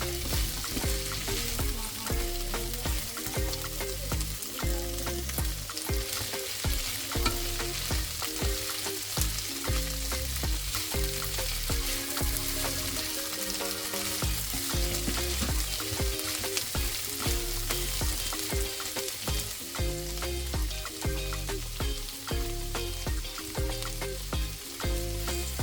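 Green beans stir-frying in a pan for fried rice: a loud, steady sizzle with frequent scraping and tossing of the spatula throughout, close up and without speech.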